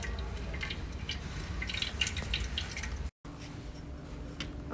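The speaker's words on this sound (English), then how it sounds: "Then the water will come out from the water outlet hole." Water drains from the outlet hole of a picosecond tattoo-removal laser machine, a quiet, steady trickle and dripping that runs close by, briefly cut off for a moment before resuming.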